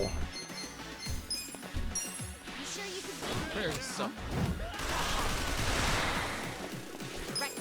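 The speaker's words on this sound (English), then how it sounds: "Gunshots do nothing." Bursts of rapid gunfire and crashing impacts in Yakuza: Like a Dragon, loud and chaotic, with scattered clinks and a voice faintly in the mix.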